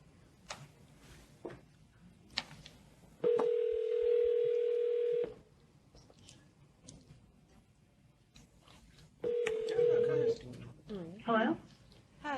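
A telephone line sounds a steady dial tone lasting about two seconds, then a second tone burst with dialing beeps, as a conference call is set up and people talk faintly around it.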